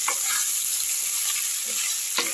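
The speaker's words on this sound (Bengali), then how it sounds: "এইবার ভেন্ডি আলুটা একসঙ্গে আরও কিছুক্ষণ ভাজতে ছেড়ে দিচ্ছি।" Okra and potatoes fry together in a pan with a continuous, even sizzle. Small bursts of crackle rise now and then as the vegetables cook, heard close and alone.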